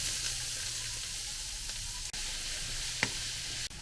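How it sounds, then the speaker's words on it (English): Onions sizzle in oil in a big pan, a steady bright frying hiss with a few small pops and stirring clicks, no talking. "Now to your pan, we're going to add a little bit of oil. And we're going to add our onions."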